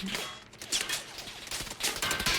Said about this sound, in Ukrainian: Він далі продовжує по комусь стріляти.